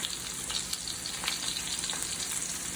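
Okra frying in oil in a pan, a steady close crackling sizzle that holds evenly throughout with faint spits, no voices.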